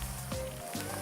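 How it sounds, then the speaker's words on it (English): Light sprinkling rain patters steadily on outdoor surfaces near Caney Creek, a soft, dense hiss of drops close by, continuous through the brief moment. "It's starting to sprinkle a little bit"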